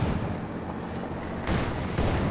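Tank cannon fire from a Panzer IV battle in Company of Heroes 2, heard as a dense rumble of booming artillery with sharper blasts near the end, loud and continuous throughout.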